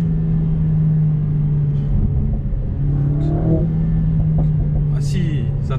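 A 2020 Mercedes A45S AMG engine runs with a steady low rumble and a rising rev for a few seconds, fairly loud and close, with a brief sharp pop near the end.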